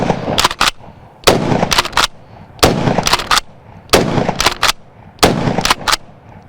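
Repeated gunshots from a Kel-Tec KSG pump shotgun, five loud close blasts spaced a bit over a second apart, each a sharp crack with a short ringing tail.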